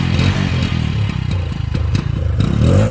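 A motorbike engine running nearby just after starting, a loud throbbing idle with uneven pulses and some clattering, continuous across the short span.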